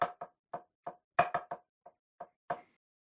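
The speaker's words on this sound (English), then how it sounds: "Your stutter diddles should sound and look something like this." Drum stutter diddle hybrid rudiment played on a sharp, dry surface: quick paired and single taps in a broken rhythm, about ten crisp strokes, close and alone.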